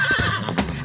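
A horse neighing sound effect set in a Tamil devotional song for Valla Muniyappan: a single short, shrill whinny, loud and close, with no talking.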